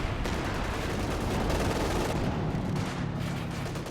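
Continuous battlefield din from Company of Heroes 2, with artillery and indirect fire rumbling under a dense layer of overlapping gunshots, distant and steady with no clear pauses.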